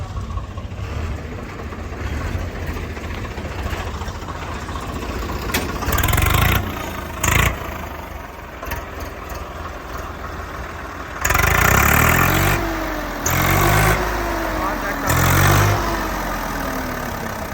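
A 2019 Swaraj 855 tractor idles with a steady mid-pitched diesel rumble, broken by a few louder bursts and short revs in the second half.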